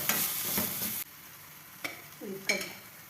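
Spoon stirring curd chutney with sugar in a bowl, a few soft scraping and clinking strokes with quiet gaps between them, close and fairly faint, no voices.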